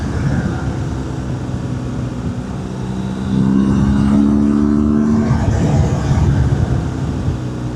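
A motorcycle engine drones steadily, then swells into a rising rev for a couple of seconds before easing back to a continuous, fairly loud hum.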